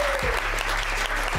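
Audience applause rings out as a loud, dense wash of clapping that stays steady from start to finish.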